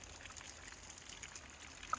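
Water poured from a jug trickles and drips through a hanging basket of petunias as a soft, steady, close-up dribble.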